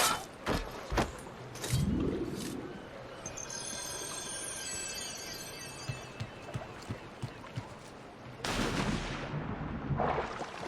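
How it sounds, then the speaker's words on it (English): Gunfire in the Assassin's Creed 2 video game, a few sharp loud shots at the start and again near the end, with softer scattered cracks and ambient noise between, no talking. "They're shooting at us!"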